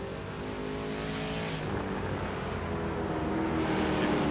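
Ford Mustang race cars battling at Laguna Seca in iRacing, a loud, steady engine drone with layered exhaust tones as two cars run close together at speed, a brief tire or gear whine near the end.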